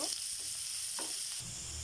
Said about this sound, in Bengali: এবারে আমি পেঁয়াজ কুচিগুলোকে হালকা একটু ভেজে নিব